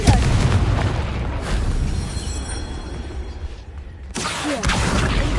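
A Confringo blasting spell detonates in Hogwarts Legacy, a loud, dense booming blast that rumbles continuously for several seconds, fades briefly, then erupts again near the end.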